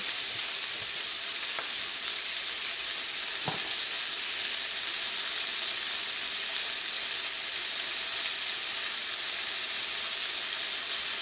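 Sweet peppers sizzle in a pan over a low flame for a Basque-style piperade sauce, a steady, dense hiss that holds evenly throughout with a couple of faint clicks near the start.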